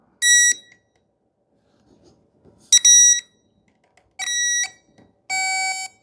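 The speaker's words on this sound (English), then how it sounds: "hit the button and it gives you an audible sound letting you know you got power" Four short, piercing electronic beeps from an electrical tester checking fuse power on a fire-damaged CF Moto Z Force 800 UTV, at irregular intervals, with faint handling noise in the quiet gaps.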